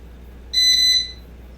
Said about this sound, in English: It makes a loud beep when you turn it on and off